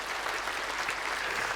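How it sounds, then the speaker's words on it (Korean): A church congregation breaks into continuous applause during a sermon, a full, even wash of clapping with no pause and no speech over it. "이럴 때는 박수가 나와야 돼요."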